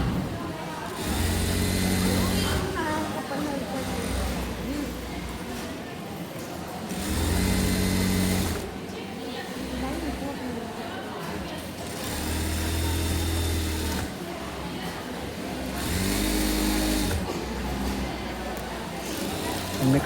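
Electric sewing machine stitching one leg of a pair of full-length pants, its motor whirring in repeated runs of a couple of seconds with short pauses between, loud and close.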